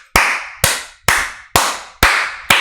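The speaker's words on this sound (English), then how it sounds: "Clap it up for the island." Six sharp, evenly spaced claps about half a second apart, loud and close with short decays, cutting through a quiet room.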